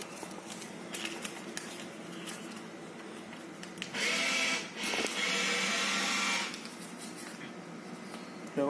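A laundromat payment machine counts banknotes for a washer, giving a mechanical whirring and rattling that swells loud for a couple of seconds, pauses briefly, then runs again over a steady background hum.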